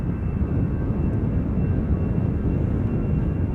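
An Aer Lingus Shamrock A320 airliner, nineteen years old, at Schiphol Airport produces a continuous loud low engine roar and rumble with no break.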